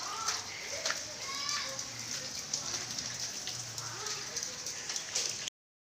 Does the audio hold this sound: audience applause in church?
no